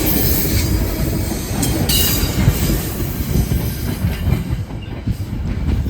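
A long train rolls past close by trackside in the cold in Ontario, Canada, with heavy rumbling, rhythmic clickety-clack of wheels over rail joints and intermittent high wheel squeals, loud and continuous throughout.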